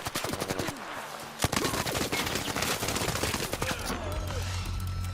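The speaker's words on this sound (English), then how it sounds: "I was so close to shooting a robot." Rapid automatic gunfire from weapons aimed at robots in the video game Arc Raiders, a dense, loud run of shots with one sharp burst, continuing steadily throughout.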